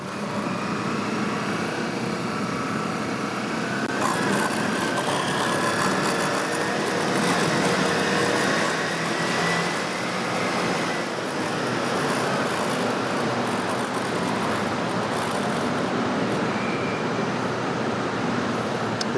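A dense, continuous drone of many motorcycle engines idling and revving together nearby while queuing in traffic in Morocco, a steady traffic roar with no pauses.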